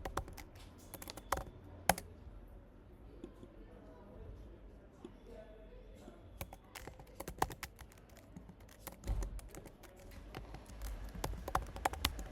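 Rapid, irregular clicks and taps on a computer keyboard as code is typed in the VS Code editor, heard close and continuous under soft talking.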